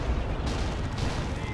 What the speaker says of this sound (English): a little friendly fire taking out his own stormtroopers there with the Baneblade demolisher cannon